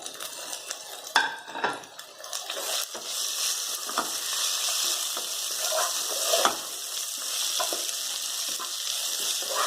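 Tomatoes sizzle steadily in oil with onion, potato and capsicum, with occasional stirring scrapes and clinks of a spoon against the pan, close up and with no talking.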